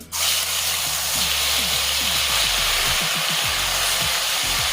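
Grated tomato dropped into hot oil, erupting into a loud, steady hiss and crackle that stays intense and continuous throughout, with no one speaking.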